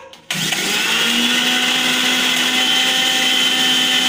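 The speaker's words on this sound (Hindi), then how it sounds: "इसको मैं अच्छे से ब्लेंड करूँगी" An electric blender whirs into action after a short pause, running loud and steady as it blends milk into whipped cream, a constant high motor drone until it cuts off.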